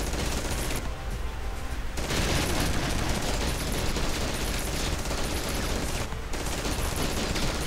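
Auto turrets fire in the video game Red Faction, a loud, unbroken stream of rapid automatic shots hammering on with only brief dips in the barrage.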